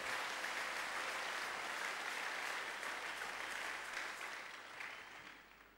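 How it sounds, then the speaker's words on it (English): A church congregation claps as an offering during a deliverance service, sustained and even applause from a large room that gradually thins toward the end. "Please give him a better clap offering"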